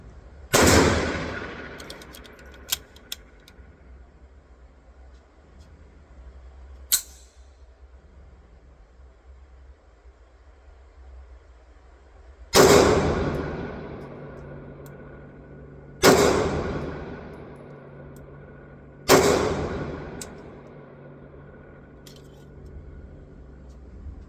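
A Star Model BM pistol firing: four loud, sharp shots spread several seconds apart, each with a short ringing tail, and a couple of small mechanical clicks in between.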